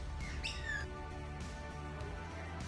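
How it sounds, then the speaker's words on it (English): Magpies squawking and chattering near a person feeding them outdoors, a couple of harsh calls over steady background noise. "time to go and feed Kevin, Peter and Alan, our friendly magpies."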